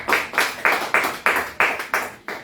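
A church congregation claps in unison, about eight loud, evenly spaced claps at a steady rhythm with a slight room echo and no voices over it.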